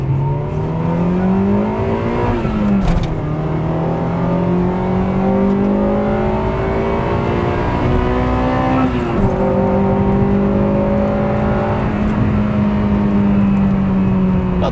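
Acura Integra with a newly installed exhaust header driving on the road, engine note steady and close, pitch rising through gears with shifts around three and nine seconds, no talk.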